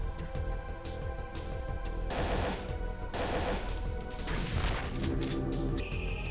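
Gunfire and impact crashes in the survival-horror video game Parasite Eve 2, with dense bursts of loud shots and heavy hits coming in clusters over a constant game soundtrack.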